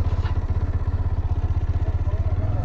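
A Bajaj Dominar 400 motorcycle idling and pulling away, its engine giving a steady, loud, rhythmic thumping pulse close by.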